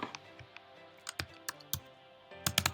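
Keys tapped on a computer keyboard while entering text in design software, with sparse, uneven clicks and a quick burst of taps at the end, close and fairly quiet, with no talking.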